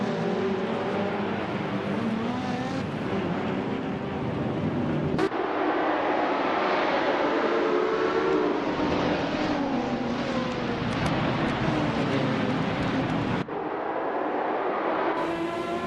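Race cars in a racing video game roaring steadily with continuous high engine whine, pitch rising and shifting as cars jostle, loud and unbroken with no talk.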